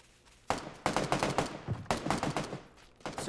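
Rapid bursts of gunfire in a PUBG match on Xbox, clustered volleys of sharp close shots broken by short pauses, with no talking.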